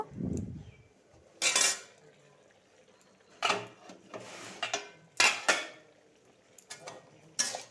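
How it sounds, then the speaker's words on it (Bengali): The lid comes off a cooking pot of bottle gourd chachchori: a few sharp metallic clanks and scrapes of lid against pot, spaced apart, close and fairly loud against a quiet background. "এখন ঢাকনাটা খুলে দেখব"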